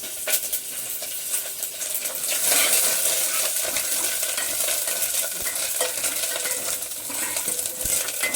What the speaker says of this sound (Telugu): ఇదిగో కరేపాకు వేస్తున్నా